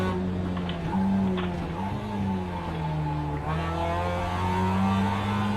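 Race car engine in a racing video game, a steady droning growl with sustained harmonic tones that rise and dip slightly as the throttle is squeezed, continuous and fairly loud throughout.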